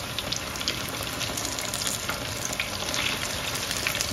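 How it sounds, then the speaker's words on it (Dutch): Saheena fritters wrapped in arrowleaf (tayer) leaves frying in hot oil give a steady, close, crackling sizzle throughout, with no talking. "Ik ben mijn Saina aan het bakken."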